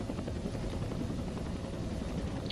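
A helicopter in the video game ARMA 2 makes a steady, dense rotor and engine drone that holds evenly throughout at moderate level, with no speech over it.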